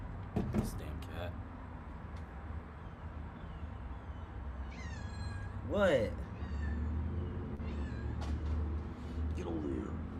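A cat meows several times, its wavering cries rising over steady low background rumble while a person speaks briefly nearby.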